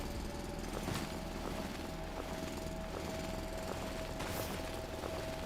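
Drilling through rock in the video game Foundry: a steady loud mechanical grinding roar with rapid rattling impacts, continuous throughout and without speech.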